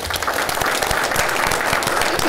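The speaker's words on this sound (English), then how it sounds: "let's give them one more round of applause." An audience at a city council meeting gives a round of applause, a loud, steady wash of many hands clapping together.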